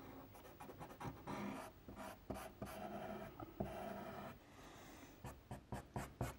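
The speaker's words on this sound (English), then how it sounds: "I'm going to use this blender to go along the edges of here and to refine the edge of the picture" A pastel blender works along the edges of a kingfisher drawing on paper, making soft, close scratchy rubbing strokes in an uneven rhythm, quiet and without talk.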